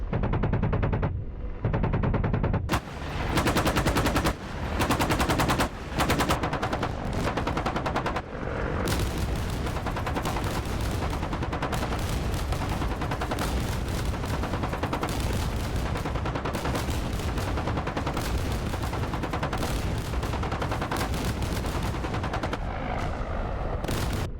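In the flight simulator DCS World, an Apache helicopter engages an armored convoy with tanks: dense, nonstop gunfire and rapid bursts roar loudly after a few opening volleys, close and unbroken with no speech.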